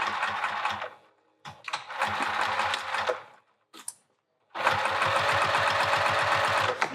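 A sewing machine stitches vinyl for a handbag in three close, rapid bursts of rhythmic whirring, separated by short pauses with faint clicks.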